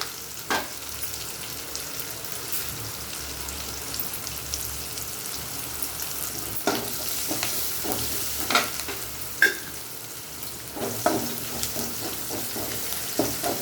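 Onions fry in a pan with turmeric as a spoon keeps stirring them for carrot rice. A soft, steady sizzle runs throughout, broken by intermittent scrapes and taps that grow busier toward the end.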